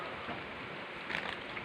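Steady rain falling, a continuous soft hiss of drops on a surface that stays even throughout, with a slightly louder patter near the end and no voices.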